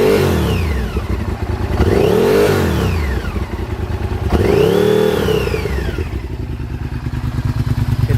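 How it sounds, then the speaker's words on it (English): A 2000 Honda VTR 1000 Super Hawk 996 V-twin with an aftermarket exhaust revs up several times from a throaty, lumpy idle. Each rise and fall is loud and close, and it settles back to a rough idle. "It sounds a lot throatier with the exhaust, but it's not obnoxious."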